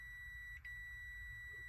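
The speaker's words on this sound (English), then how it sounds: "your meter beeps, and it also gives you a resistance reading." A digital multimeter in continuity mode beeps as its probes touch across a golf cart solenoid, giving one steady high electronic tone that holds through the whole moment with a brief dip, quiet and close.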